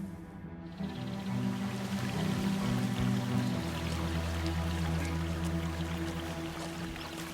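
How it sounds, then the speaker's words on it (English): A waterfall in the Australian outback rushes as a steady, broad hiss, fairly distant and continuous, with a low engine-like drone underneath. "Sounds like a waterfall."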